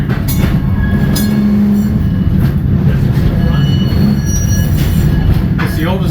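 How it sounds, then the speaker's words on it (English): A 1930 diesel locomotive, among the oldest still operating, running on short narrow gauge track at a trolley museum, with a steady loud rumble and rolling rail noise, a brief wheel squeal and a faint voice underneath. "This locomotive right here, built in 1930. The oldest operating diesel locomotive in the country."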